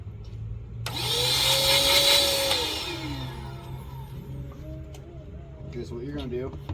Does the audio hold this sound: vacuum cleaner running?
yes